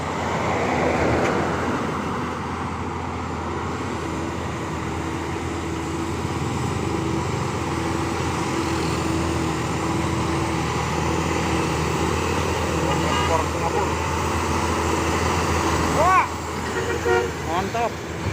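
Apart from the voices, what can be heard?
Mitsubishi Fuso Super Great truck passing on road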